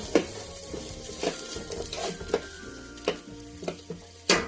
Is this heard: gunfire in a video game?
no